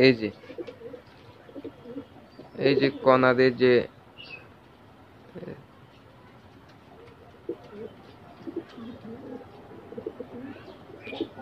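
Domestic pigeons coo in and around their coop, a short burst of low cooing near the middle against a quiet background, with someone speaking before and after.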